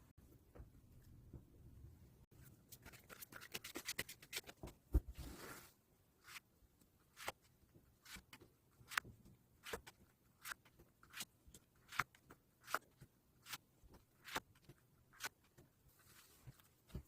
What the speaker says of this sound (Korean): 그럼 카드 셔플 진행해 보도록 하겠습니다